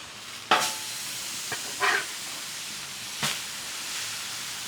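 Steaks searing on an oiled Blackstone griddle, a steady background sizzle broken by a few sharp hissing bursts as the meat goes down.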